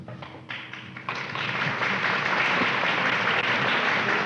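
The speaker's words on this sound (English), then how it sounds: "we can give them a round of applause" Audience applause breaks out for standing women's committee members, starting with a few scattered claps and swelling after the first second into dense, steady clapping from a large crowd that holds strong to the end.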